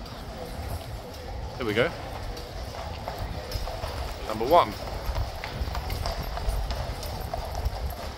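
Horses clip-clopping through a tunnel at a walk, a steady stream of hoof beats echoing under continuous talk, with a couple of short louder bursts.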